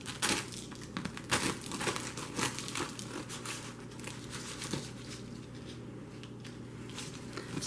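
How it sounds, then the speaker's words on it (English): A knife saws through a loaf of blueberry bread from a bread machine, making dense crinkly, crackling crust sounds in uneven bursts that thin out toward the end, close and soft, with no speech. "So let's cut a piece and see what it looks like."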